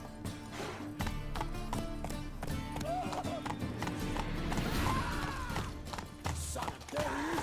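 Roach, a horse in The Witcher 3, galloping with rapid rhythmic hoofbeats that run throughout, close and fairly loud, mixed with game ambience and an occasional snort or whinny.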